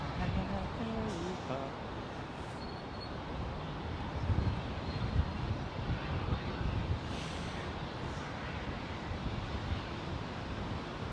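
A jet airliner taking off at London Heathrow Airport, a steady broad roar with rushing, wind-like noise throughout, heard at a distance, while people talk at intervals over it.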